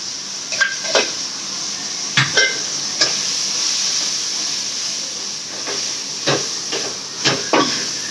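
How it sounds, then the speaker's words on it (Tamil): Eggplant sautés in a pan with a steady hissing sizzle, punctuated by a handful of sharp scraping stir strokes at irregular intervals, close and moderately loud, no speech. "நல்லா வதங்கிச்சு கத்திரிக்காய்."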